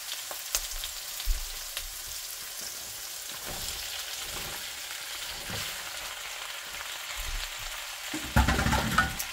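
Pasta being stirred through garlic and oil in a pan, a steady soft sizzle with scraping stir strokes throughout, growing louder and busier near the end.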